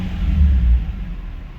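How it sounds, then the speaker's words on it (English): A Nissan 350Z engine gets a quick throttle blip, its deep, loud exhaust rumble swelling briefly near the start and then easing back to a lower idle. "Give her a little blip at the throttle real quick."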